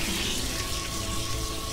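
Steady, close-up rush of running water from a grooming tap or sprayhose as a Cavachon dog is rinsed, a continuous even splashing hiss with no pauses.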